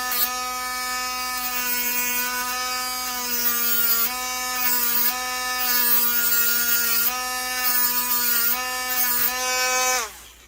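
Steady, loud whining buzz of a small rotary cutting tool slicing through an RC lowrider car spring, holding one pitch with slight wavers for about ten seconds before winding down, with no talk.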